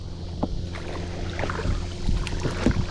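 A homemade paddle dipping and pulling through water as a small boat fights a strong current, rhythmic splashy strokes over a constant rush of water and wind noise, close and fairly loud.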